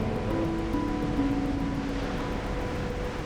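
Sea surf rolling in at a grey seal colony as the tide rises, a steady broad wash of waves with low rumble throughout, with faint tonal hums threading through it and no speech.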